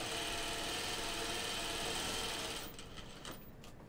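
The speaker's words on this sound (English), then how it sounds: "I hold the thread and then I sew." A Juki industrial sewing machine runs steadily and loud for about two and a half seconds as it sews, then stops, leaving a brief quieter stretch with a couple of faint clicks.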